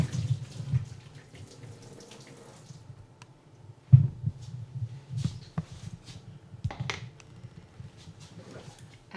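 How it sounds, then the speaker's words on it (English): Water pours from a roasted pumpkin pan into a kitchen sink, a soft, uneven trickle and splash close by with a few sharper clunks. "I'm going to really carefully pour some of the water out into the sink."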